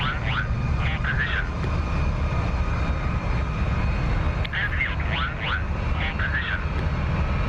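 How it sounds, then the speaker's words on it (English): Engines of a B-2 Spirit bomber take off in the DCS flight simulator, a steady, heavy low roar that holds evenly throughout, with faint higher chirps over it. "we're airborne. We are flying the B-2"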